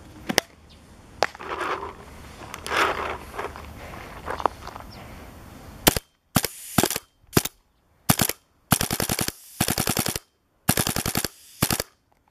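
A prototype Boston Reflex Mini Cocker paintball marker fires loaded paint in a series of sharp, loud shots: a few scattered pops, then tight bursts of rapid repeated firing, close to the microphone with no talking.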